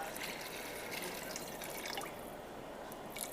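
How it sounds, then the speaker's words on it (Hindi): Water pours and trickles steadily into a double-coated cooking pot for khichdi, a continuous close splashing with a bright dripping edge and no talking. "तो यहाँ पर हम अभी थोड़ा पानी डाल देते हैं"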